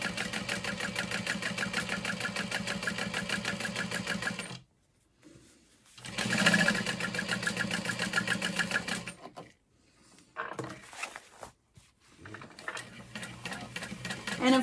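A sewing machine stitches fleece around the outer edge of a bag in close, rapid runs. Several stops break the stitching, filled with quiet handling, before each short burst of sewing resumes.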